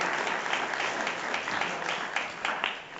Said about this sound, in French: Trophée au vainqueur, sous vos applaudissements s'il vous plaît